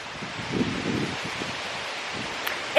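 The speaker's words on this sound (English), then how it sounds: "It's really windy, but it's also warm." Wind gusts blow steadily outdoors on a warm evening walk at Coyote Hills, a broad rushing noise with rustling and buffeting against the microphone, rising briefly near the end.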